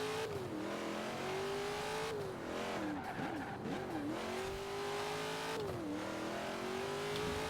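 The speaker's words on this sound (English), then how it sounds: "Because it's basically just, you know, engine sound." Race car engine from a racing video game, a continuous loud engine note rising and falling through gear changes and revs, with brief tire squeal, no voices.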